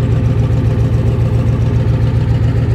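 A Ford F250 pickup with the 7.3 IDI diesel idles steadily up close, its low, even clatter pulsing in a constant rhythm with no voices over it.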